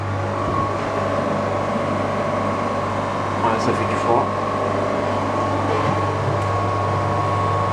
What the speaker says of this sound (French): Ouais, les ventilos tournent.